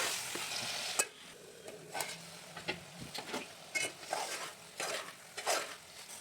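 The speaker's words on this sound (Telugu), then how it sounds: "దాన్ని బాగా కలిపి కొద్దిగా మగ్గనివ్వాలి చికెన్" A spoon stirs chicken in a pan for curry, scraping and clattering in repeated strokes over a soft, steady sizzle, close by and moderately loud, with no talk.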